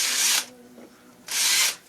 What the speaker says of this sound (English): I'll try to drill it out here a little bit